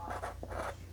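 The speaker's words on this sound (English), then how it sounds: "I just have to write on it" A marker squeaks and scratches across a case in a few quick close strokes, faint and short, with a low hum underneath.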